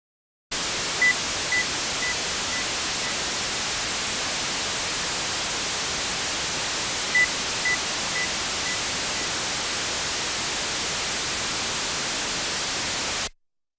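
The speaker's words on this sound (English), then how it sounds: "Now the signal is masked with broadband noise." Loud, steady broadband hiss fills the whole clip, with a 2000 Hz test tone barely poking through as faint beeps in two descending series.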